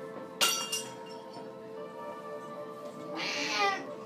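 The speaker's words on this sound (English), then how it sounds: "Okay, so the cat just broke the glass." Glass-breaking and cat meow samples played in Mixxx, DJ software, sound over a steady sustained tone: two sharp clinking crashes near the start, then a brighter, noisier burst later.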